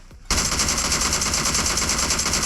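Sustained automatic gunfire in the battle royale game PUBG Mobile, a loud, rapid, unbroken burst that starts abruptly after a short silence and continues to the end.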